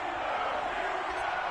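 A stadium crowd roaring in an EA Sports NFL game before a New England Patriots versus Pittsburgh Steelers matchup: a steady, broad wash of cheering that holds throughout without breaks.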